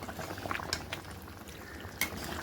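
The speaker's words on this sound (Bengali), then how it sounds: "এবার এটা হাই ফ্লেমে ফুটতে দেব মিনিমাম 10 থেকে 15 মিনিট" Chicken curry bubbling over a high flame in a pot after water is added, a soft continuous simmer with occasional sharper pops and light clinks of a utensil against the pan.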